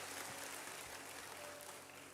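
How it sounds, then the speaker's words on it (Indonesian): Applause from a church congregation during a Christmas sermon, a steady, dense wash of clapping filling the room throughout, fairly distant and even in level, with no one speaking over it. "Berikan tepuk tangan hebat bagi Tuhan."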